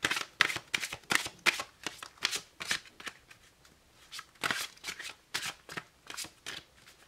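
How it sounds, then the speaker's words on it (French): Oracle cards being shuffled by hand, a quick series of crisp riffling bursts in an uneven rhythm, close and fairly quiet, with no talking. "Alors, je vais vous piocher deux cartes."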